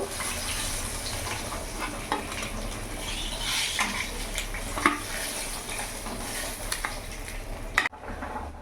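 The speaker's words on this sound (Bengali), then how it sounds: "ওই তেলের মধ্যে ঝিঙেটা আর আলুটা ভেজে নেব।" Ridge gourd and potato frying in hot oil, a steady dense sizzle with occasional stirring scrapes and clinks, close and loud, cutting off abruptly near the end.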